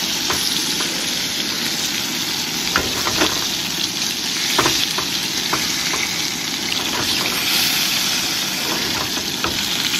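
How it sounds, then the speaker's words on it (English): Steak sears on its other side in a hot pan, a loud, steady sizzle with scattered sharp pops and crackles running throughout. "I'm gonna give this thing a sear on the other side"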